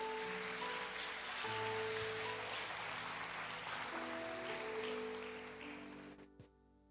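Steady applause from a large church congregation fills the space, with sustained organ-like tones underneath, fading out near the end.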